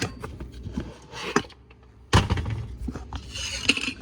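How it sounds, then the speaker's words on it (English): Dishes being washed at a kitchen sink, with pots and cutlery clattering and clinking in irregular bursts, including a sharp louder clank halfway through. "Put you over here while I do some dishes."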